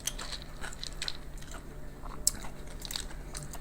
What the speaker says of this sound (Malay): Korang boleh dengar kan bunyi rangup kan.